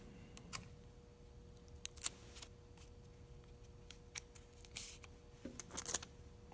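Pieces of tape being torn and pressed onto a paper straw, a series of faint, sharp clicks and crinkles scattered irregularly, close by and without talk.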